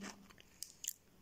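Crunching bites into Fonzies, a crispy corn and cheese snack: a few sharp, dry crunches close to the mic, spaced irregularly over about a second, with no talk.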